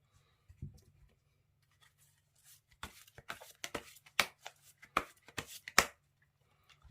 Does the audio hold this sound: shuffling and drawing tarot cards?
yes